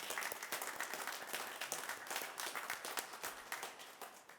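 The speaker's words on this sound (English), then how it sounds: "Let's give a round of applause, another round of applause for all the great work that we're doing as partners" Audience applause at a community business retail and retention initiative event: steady, dense clapping from a crowd that holds at an even level throughout, with no speech over it.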